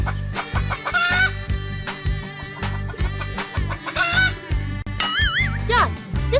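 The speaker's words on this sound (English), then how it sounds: "Chicken. This is chicken." A chicken clucks in short rising bursts over a bright, rhythmic music bed with a ringing chime.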